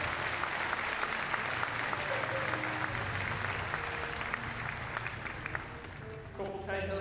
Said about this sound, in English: Big round of applause, please, for Corporal John Cahill and Air Dog Skeet,